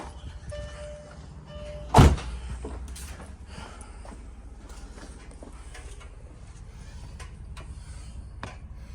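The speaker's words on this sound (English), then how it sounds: "Let me pop this hood." The hood of a wide-body Mercedes CL55 with a brake fluid leak is popped open with a single sharp, close thunk, followed by low background hum and faint clicks.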